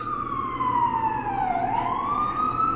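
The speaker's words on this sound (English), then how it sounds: "There's an ambulance outside, so don't worry about that." An ambulance siren wails outside, its pitch sliding down and back up in a slow sweep, steady and moderately loud over low traffic rumble.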